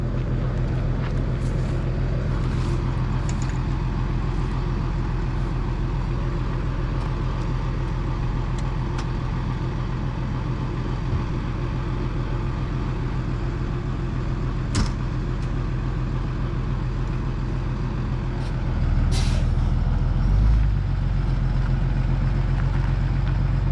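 A car being towed away, a continuous loud engine rumble from the tow vehicle with a few faint clicks and a brief thump near the end.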